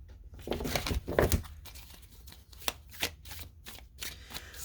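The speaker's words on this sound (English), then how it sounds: "I'm going to separate these cards so that they don't come out in a clump again." Tarot cards being shuffled and separated by hand, a run of quiet papery riffles, slaps and crinkly flicks in an irregular rhythm, close up with no talking.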